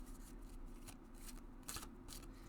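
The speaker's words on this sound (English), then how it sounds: "So you can shuffle them that way" A deck of bendy, flexible meditation cards is shuffled overhand, making several quick, soft riffling bursts close to the microphone in an otherwise quiet room.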